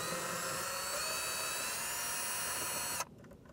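A power drill runs with a steady high-pitched whine while driving out interior trim screws during a CarPlay and backup camera installation in an Audi A4, A5 or Q5, then stops abruptly near the end.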